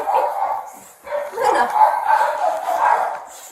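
A six-month-old puppy gives a string of close, loud barks and yips in quick succession, with only a brief pause between bursts.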